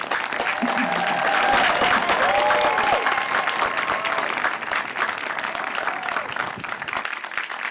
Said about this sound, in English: Let us give the graduates a hearty round of applause in this milestone moment.